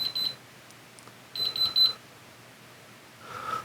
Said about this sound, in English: Here's some beeps.